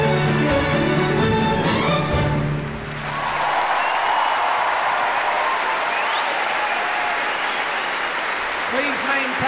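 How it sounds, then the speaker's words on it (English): A large concert hall audience at a comedy Proms performance breaks into sustained, loud applause, a dense steady wash of clapping that follows a musical passage. "Please maintain and enhance your applause"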